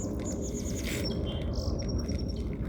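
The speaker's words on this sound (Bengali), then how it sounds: "এবং পাখির শব্দ শুনতে নিশ্চয়ই পাচ্ছেন" Several short, high bird chirps come in quick bursts over a steady low rushing background, like water flowing nearby.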